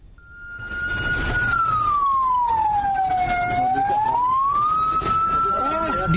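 A fire engine's siren wails loud and steady in a traffic jam, its tone sliding slowly down and back up, with road traffic rumbling underneath and no talking.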